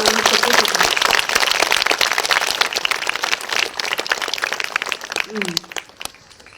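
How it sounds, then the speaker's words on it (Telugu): An audience applauds the secretary at a training program. Loud clapping starts strongly, fades gradually over several seconds, and is joined briefly by a voice partway through. "big round of applause"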